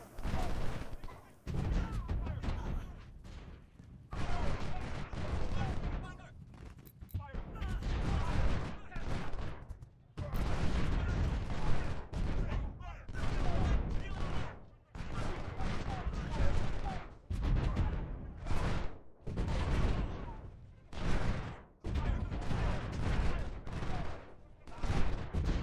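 Artillery guns fire in the Civil War strategy game Ultimate General: Civil War, a steady run of booming volleys and crackling bursts that comes in waves with short lulls. Someone talks over parts of it.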